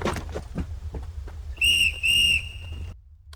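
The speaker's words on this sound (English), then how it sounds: "The unknowing detonation officer blew his whistle" A detonation officer's whistle in a Chinese coal mine is blown in two sharp, shrill blasts close together, following some brief murmuring and soft thuds.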